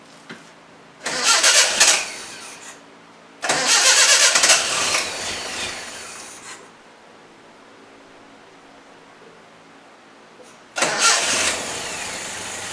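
A project car engine cranks in three separate loud bursts, with quiet gaps between, the second attempt lasting about three seconds, close up, without talk.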